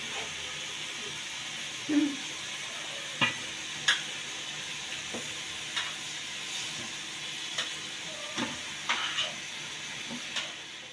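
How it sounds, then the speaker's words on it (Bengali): Fried chicken and potato pieces sizzle in cooked-down spice masala in a pot for biryani, a steady soft hiss broken by scattered scrapes and clicks of stirring, no voices. "মশলা কষানো শেষ, এখন দিচ্ছি এক ভাজা চিকেন আর আলু"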